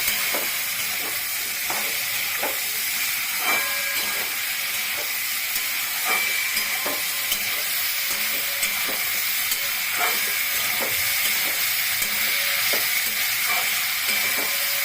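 Ash gourd shoots with green chili, salt and turmeric frying in a pan, a steady loud hiss and sizzle with a spatula tapping and stirring at a regular rhythm.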